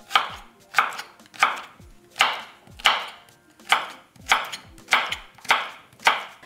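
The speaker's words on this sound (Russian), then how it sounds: "Берем 150 граммов огурца и нарезаем на кубики." A knife chops cucumber into cubes on a cutting board, about nine firm, evenly spaced strikes, close and clear with no talking.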